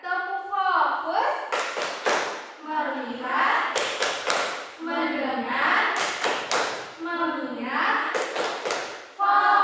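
Children in a classroom clap out a rhythmic routine, bursts of sharp hand claps in quick groups alternating with chanted speech, repeating in a regular cycle, loud and close.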